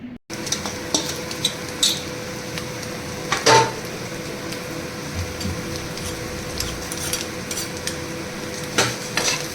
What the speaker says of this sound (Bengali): এবার আমার সিদ্ধ করে রাখা আলু আর ডিমটা কড়াতে একসাথে দিয়ে দিলাম